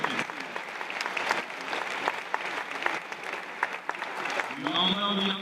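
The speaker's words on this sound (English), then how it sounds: "Come on now, let's clap it up for real." An audience applauds a young musicians' quartet at a community meeting, dense steady clapping filling the room, with voices talking over it and a brief tonal sound near the end.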